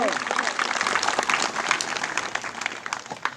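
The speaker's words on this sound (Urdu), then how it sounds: "آپ کی تالیوں کی گونج" An audience at a school seminar on deforestation breaks into dense, sustained applause, many hands clapping together loudly and evenly throughout.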